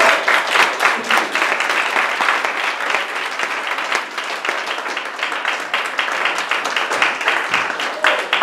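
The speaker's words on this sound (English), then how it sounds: "I want to give the Lord a hand clap." Sunday service congregation gives the Lord a hand clap, loud sustained applause with dense rapid claps and some crowd voices, steady throughout.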